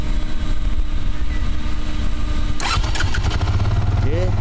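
A Benelli 150S Special Edition motorcycle engine starts partway through, a sudden broadband burst that settles into a steady idle rumble over constant background noise, heard close up with talk around it.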